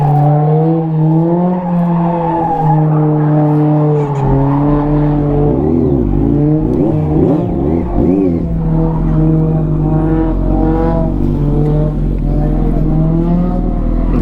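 A Kawasaki Z900 motorcycle at a drag racing event holds a loud, close, droning engine note that climbs and dips in pitch as it revs, with no talking over it.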